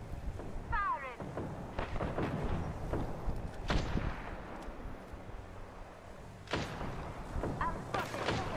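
Gunfire in the battle royale game Apex Legends: dense, continuous volleys of shots and heavy impacts through the whole stretch, loud and close, with some whizzing effects and a voice talking over it.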